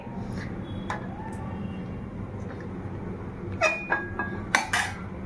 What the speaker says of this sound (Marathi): परत कढईवरती ठेवायची आहे गॅसवरती आणि गॅस फास्ट करायचा आहे